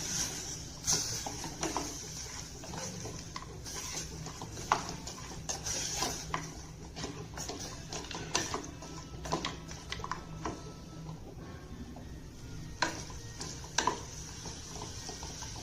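Mutton being stirred in a pan with turmeric and salt: a steady run of spoon scrapes and metallic clinks against the pan, close and moderately loud, with no talking.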